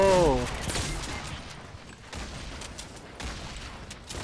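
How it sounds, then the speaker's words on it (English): Gunfire rattles through a Fortnite match in sporadic bursts of distant, fairly faint shots, with a brief voice at the start. "This dude's shooting us down."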